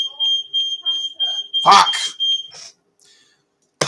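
A smoke alarm shrills in a high, piercing run of repeated beeps while pasta cooks, loud and close, cut through by a sharp exclaimed voice before the beeping stops into near silence.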